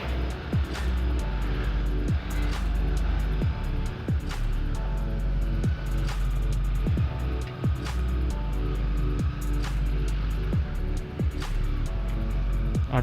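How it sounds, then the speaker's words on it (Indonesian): Traffic is jammed near a market in Semarang, with a steady rumble of idling and slow-moving motorbike and car engines close by and repeated short knocks and thumps over a continuous low drone. "Aduh, malah macet teman-teman."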